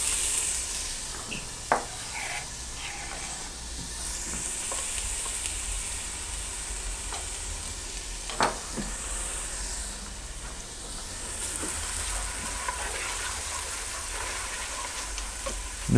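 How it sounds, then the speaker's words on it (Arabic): Onions frying in olive oil in a pan for tomato bulgur, a steady dense hiss and crackle throughout, close and even, with a couple of faint utensil taps and no talking. "نستنى شوي البصل هيك ليتحمص شي بسيط او يذبل"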